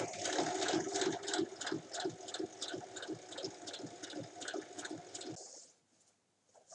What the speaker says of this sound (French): Ensuite, il faut coudre l'autre côté.